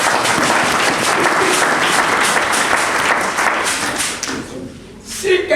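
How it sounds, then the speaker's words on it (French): Sustained loud applause from a crowd at a village building donation ceremony in Yadio near Agboville, steady dense clapping that thins out near the end as a voice begins. "On l'acclame très fort."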